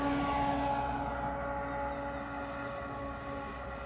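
A freight train rolls past near railroad viaducts, a steady broad rumble with sustained tonal horn-like lines, loud at first and easing slightly.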